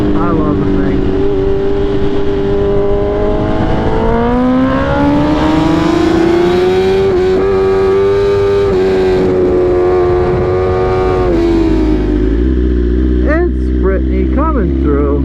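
A Grom motorcycle is ridden fast past, its engine whine rising and falling in pitch as it revs and approaches, loud and close, with voices talking over it.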